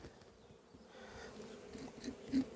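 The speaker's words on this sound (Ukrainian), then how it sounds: "струсюю трішки бджіл і відкриваю мед" Honey bees shaken off a hive frame give off a soft, steady, close buzzing hum that swells slightly toward the end, with no speech.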